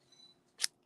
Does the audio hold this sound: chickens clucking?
no